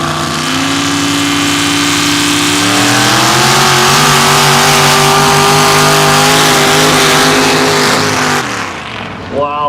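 A race vehicle at a mud drag strip in Valemount roars loudly at full throttle, its engine note climbing steadily in pitch as it accelerates down the track before cutting off abruptly near the end.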